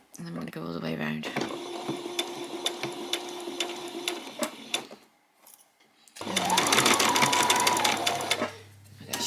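A sewing machine stitching slowly around the edge of fabric for a peasant top, a rapid mechanical whirring run that pauses, then resumes louder with a brief stop near the end.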